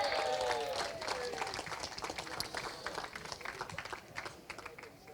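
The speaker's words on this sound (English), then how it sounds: "Big round of applause, please, for Minimax driver 37" Audience applause for a Minimax kart driver at a Kartmasters Grand Prix awards presentation, a steady patter of many hands that starts strong and gradually thins and fades over a few seconds.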